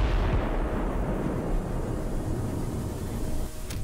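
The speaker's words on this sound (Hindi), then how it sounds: "बिल्डिंग की एक खिड़की को फोकस किया जाता है और फिर होता है एक बड़ा धमाका" A loud, sustained roar of a large explosion tearing through a ruined building on a street, with a heavy rumbling blast that fills the whole clip and eases slightly near the end.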